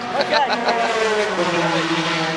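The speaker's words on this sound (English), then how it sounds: "It is a noisy pit lane here at Road Atlanta." Race car engines drone and rev in the Road Atlanta pit lane during a sports car endurance race, a loud steady roar with a voice talking over it.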